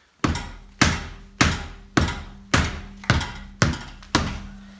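A small sledgehammer strikes a car tire on the driver's side eight times at a steady pace, each blow a loud, close, dull thunk with a short ringing tail and no voices.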